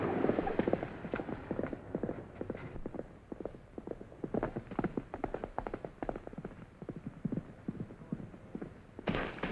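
A horse's hooves clip-clop in a steady trotting rhythm, close and moderately loud, with a brief sharper noise near the end.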